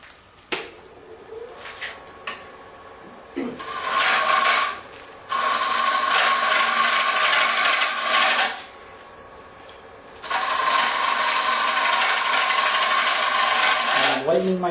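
A hand tool cuts a bevel with long, steady rasping strokes, loud and close, separated by brief pauses between passes, with some light tapping and handling noises at the start.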